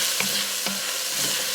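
Four teaspoons of minced garlic sizzle steadily in a hot pan with other stew ingredients, a constant close frying hiss broken by a couple of brief stirring scrapes.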